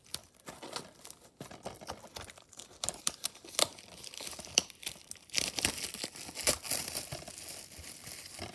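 Plastic wrap being peeled and crinkled off a DVD case, irregular crackling and tearing bursts close by, quiet at first and growing busier and louder in the second half.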